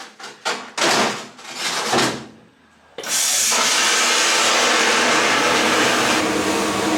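Vapour blasting machine cleaning rough engine parts from a 1983 Volkswagen Mk1 Golf GTI: a few loud bursts of spray in the first three seconds, then a steady, loud, continuous hissing blast that fills the rest of the clip.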